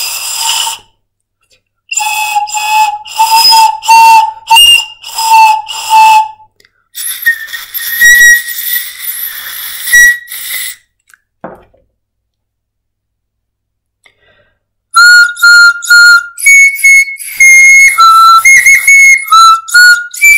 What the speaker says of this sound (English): I would like to present the sound produced by both bone tubes